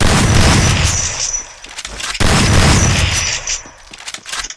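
Gunfire from an M47 shotgun in a video game, a pair of loud blasts with short echoing tails, separated by about two seconds, with no talking.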